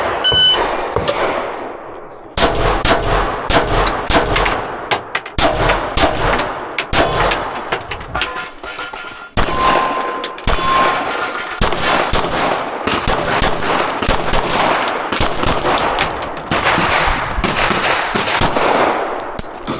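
Rapid pistol shots ring out during a USPSA Carry Optics stage, loud sharp cracks in quick strings with brief gaps between bursts, some metallic clangs mixed in.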